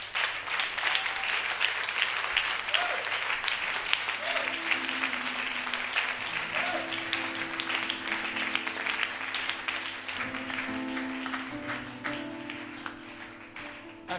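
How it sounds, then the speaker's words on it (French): A church congregation at a French-language deliverance and healing service applauds steadily and loudly for Jesus, sustained clapping over a soft tonal musical backdrop that fades toward the end. "Acclame le Seigneur Jésus."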